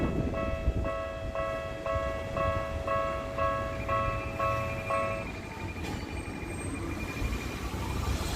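A local Setagaya Line train pulls into Sangenjaya station, Tokyo, with a steady rumble and a repeating electronic chime tone, followed by a high squeal of brakes; no voices.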